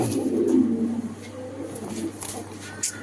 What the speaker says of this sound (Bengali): এটা হচ্ছে একটা নর কবুতর